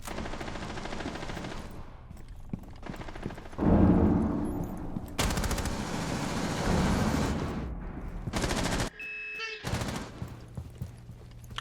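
Gunfire in a first-person shooter video game: bursts of rapid automatic shots and single cracks mixed with game effects, loud and close, with no speech.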